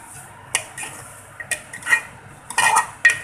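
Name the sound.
stirring spice powder into mutton rogan josh in pot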